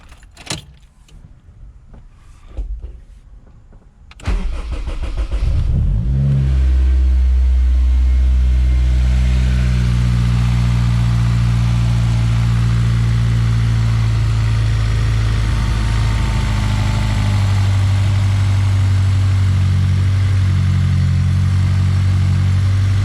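A Honda S2000 engine, freshly fitted with new injectors, cranks and catches after a few seconds of quiet handling noises, then settles into a steady, loud, close idle with no voices.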